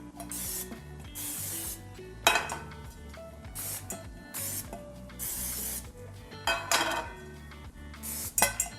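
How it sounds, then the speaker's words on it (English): Several short hissing bursts of cooking spray into cake pans, close and loud, with light metallic clinks of pans in between. "Let's spray these lightly."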